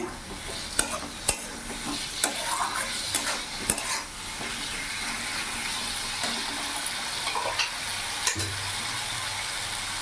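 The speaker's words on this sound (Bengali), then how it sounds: "ভালো করে মিশিয়ে নাড়াছাড়া করে নেব" A spoon works through Bata fish curry masala with fried potatoes in a pan over medium flame: clanking scrapes and knocks against metal over a steady frying sizzle, close, with no speech.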